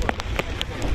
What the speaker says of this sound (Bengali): কন্টিনিউ বৃষ্টি হয়ে যাচ্ছে